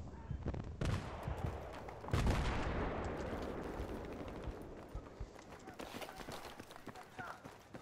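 Gunfire and heavy explosive booms in the video game Battlefield 3, loud blasts followed by a rumbling tail and scattered shots and footsteps, with a player talking over the action.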